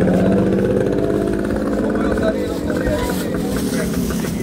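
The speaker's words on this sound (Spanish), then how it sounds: "Una moto." A motorcycle engine drones loudly and close on a street in Cuba, its pitch shifting as it passes, with traffic noise around it.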